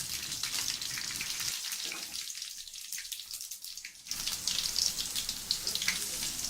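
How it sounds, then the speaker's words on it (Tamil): Dried red chilies and green chilies sizzle briefly in hot oil for pepper rasam, a steady crackling hiss that drops out for a couple of seconds midway and then returns at full strength. "நம்ம வெட்டி வச்சுருக்க அந்த காஞ்ச மிளகாவையும் பச்சை மிளகாவையும் போட்டு அந்த எண்ணெயிலே ஒரு சின்ன லைட்டாக ஒரு 1 செகண்ட் வதக்கிட்டு"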